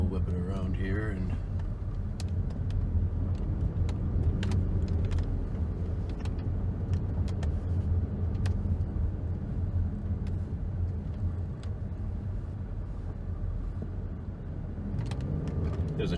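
A car drives along a road at a steady low engine rumble with road noise while turning around, heard from inside the cabin.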